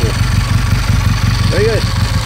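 A 1959 Triumph Speed Twin 500cc motorcycle engine idles quietly with a steady low, even pulse, while someone talks over it close by.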